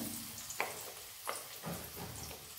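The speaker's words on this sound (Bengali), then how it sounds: "আলুটা একটু ভেজে নেব।" Potatoes fry in a pan with a soft, steady sizzle, broken by a few scraping stirs of a spoon, all quiet and close.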